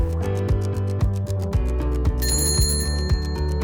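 A bright, repeated bell jingle rings as a subscribe-notification sound effect, layered over a steady music bed with a chime entering partway through, with no voices.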